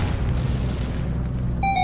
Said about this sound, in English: Let me put on these bombs here. And let's blow up some walls